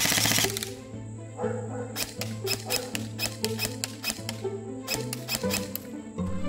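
A Lancer Tactical MK18 MOD 0 Gen 3 airsoft AEG firing close by in quick bursts of sharp mechanical clacks, with a steady motor whir between volleys.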